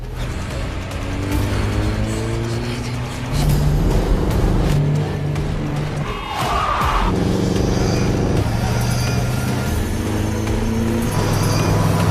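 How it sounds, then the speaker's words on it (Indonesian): A car speeds up in a road chase scene from the film Unhinged (2020). The engine roars loudly and steadily for about twelve seconds with rising and shifting pitch, and other traffic noise from the action sits behind it. "Tom tidak peduli dan langsung tancap gas mengejar Rachel."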